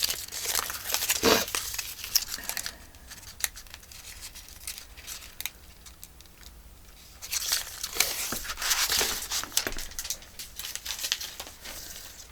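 A soft paper envelope cover on a handmade journal is opened and handled, producing close, irregular crinkling and rustling in bursts with quieter gaps in between.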